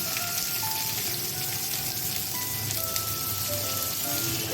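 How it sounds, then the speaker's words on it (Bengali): Chopped onion and torn dried red chili sizzle in a small amount of hot oil for a bottle gourd ghonto, a soft, continuous crackling hiss without pauses, with no talking. "তারপর একটা শুকনো লঙ্কা ছিঁড়ে দিলাম তারপরে এখানে এই এতটা মতো পেঁয়াজ কুচি দিয়ে দেব"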